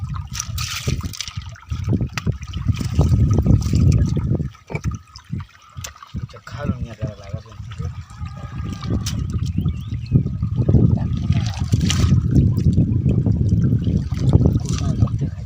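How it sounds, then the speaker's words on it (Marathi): A strong, fast-moving water current rushes and gurgles loudly and continuously nearby at a fishing trap, with a person speaking briefly over the flow. "पाण्याचा प्रवाह कसला जबरदस्त आहे"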